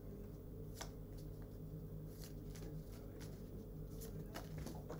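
Thin tarot cards are shuffled in a faint, continuous riffling patter with occasional soft snaps, heard close but quiet over a steady background hum, with no talking.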